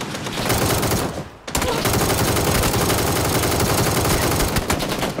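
Sustained automatic gunfire in an Xbox shooter game, loud and dense, with one brief pause before the firing resumes unbroken.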